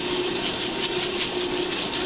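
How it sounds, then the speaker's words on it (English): A brake lathe machines a brake rotor, giving a continuous, even mechanical hum with a steady tonal whine and hissing cutting noise, moderately quiet and without pauses. "At this point, we can stop the lathe"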